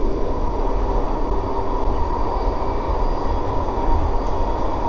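Vancouver SkyTrain car riding the rails through South Burnaby and New Westminster, a steady loud rumble with a continuous mid-pitched whine and hum throughout, no talking.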